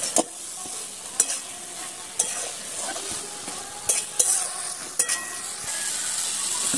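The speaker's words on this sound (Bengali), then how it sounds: "এবার এতে আমি ভেজে রাখা ভেন্ডিগুলো দিয়ে দেবো" Okra stir-fried in a spicy masala sizzles steadily in a pan, while a spatula scrapes and knocks against the metal at irregular intervals over the continuous frying hiss.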